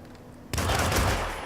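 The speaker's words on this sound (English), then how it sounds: "Some gun-toting idiot is discharging a firearm." Gunfire from a firearm in the video game Hitman, set in Hokkaido, erupts suddenly as a loud, dense burst of rapid shots after a moment of quieter ambience.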